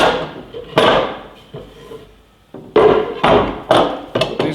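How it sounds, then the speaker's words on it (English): Clamps being released from a freshly glued wooden face-grain cutting board: a close series of sharp wooden knocks and metallic clanks, spaced irregularly, each ringing briefly before fading, with no talking. "we're going to undo our clamps."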